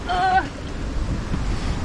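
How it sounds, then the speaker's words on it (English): Big open-sea waves surge around a Rival 32 sailboat heading for Fair Isle, a loud, constant roar of wind and water with heavy wind buffeting on the microphone and a brief tonal whine at the start. "Some of the waves are huge."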